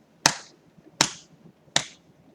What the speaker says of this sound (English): You clap the rhythm.